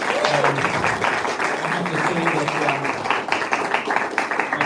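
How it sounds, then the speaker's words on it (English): Audience applause for contestants at a shoe shining championship, a crowd clapping steadily at moderate distance with a voice speaking over it. "A round of applause for all of our three contestants."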